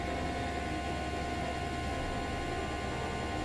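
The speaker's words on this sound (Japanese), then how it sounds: "ドライヤーで乾燥中の音が" A hair dryer blows on a watercolor painting of Venice to dry it, a steady, even whooshing hum with a faint whine that holds unchanged throughout, with no talking.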